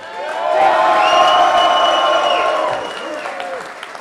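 An event crowd cheering and whooping loudly for Seiko CAI, a sustained roar of voices with shouts and some clapping that swells quickly then fades out toward the end.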